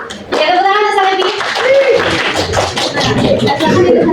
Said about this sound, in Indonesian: Ya, tepuk tangan sekali lagi.